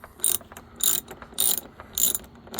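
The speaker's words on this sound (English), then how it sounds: "Next thing to remove is this Torx T20 screw on the side of the panel." A ratchet backing a Torx T20 screw out of the door panel of a Ford Fusion, four evenly spaced bursts of crisp, close clicking pawl ratcheting, with no talking.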